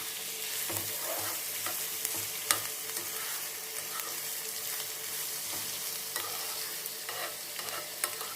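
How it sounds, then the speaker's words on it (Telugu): Drumsticks frying with onion and curry leaves in a pan, giving a steady close sizzle with occasional stirring clicks and scrapes. One sharp knock stands out, and nobody talks. "ఇదిగోండి, కరివేపాకు కూడా వేసేస్తున్నాం. కొంచెం వేగనిచ్చేస్తే చాలు."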